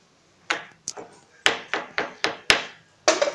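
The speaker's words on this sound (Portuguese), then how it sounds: "um martelinho preferido pra brincar de pedreiro." A child's toy hammer, used for pretend bricklaying play, taps in a series of sharp, separate knocks, about eight or nine irregularly spaced hits, close and fairly crisp.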